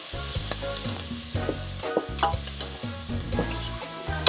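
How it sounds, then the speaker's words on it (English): Bacon and onions brown over high heat in a pot, a bright crackling sizzle broken by repeated rhythmic scraping and stirring strokes close by. "I'm gonna not stir this much just so I get a little bit of browning on the onions."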